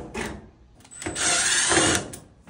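A power drill whirs in short bursts and then one longer steady spin, close and fairly loud, backing screws out of a Whirlpool dryer panel.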